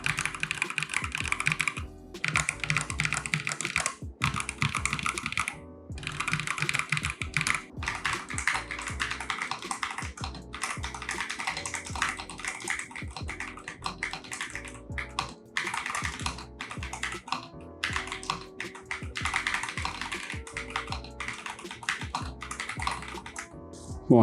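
Steady, continuous typing on a Zifriend Z63 Pro 60% wireless mechanical keyboard with backlit shine-through keycaps, close and clear, with dense rapid keystrokes and a few brief pauses throughout.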